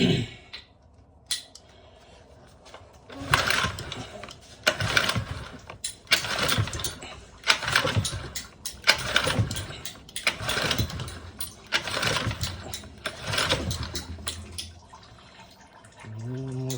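A Hangkai 6.5 hp four-stroke outboard motor is pulled over repeatedly in neutral with a little throttle. Loud rhythmic bursts of cranking and sputtering come in a steady series, close by, then briefly settle before one final surge.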